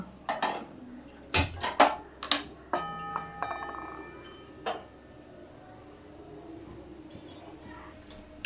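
A wok, already used for frying potatoes, is set down on a kitchen stove. Several sharp metallic clanks and knocks ring out close by in the first five seconds, then the sound fades to quiet room tone.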